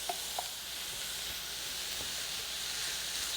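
Carrots, onion and celery stir-frying in a pan, a soft steady sizzle and hiss throughout, with a few faint clicks and taps of stirring.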